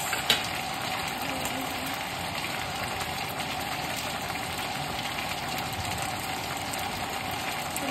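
Half-cooked chicken frying in its own juice: a steady, even sizzle holds throughout at moderate loudness, with a faint background hum and no voices.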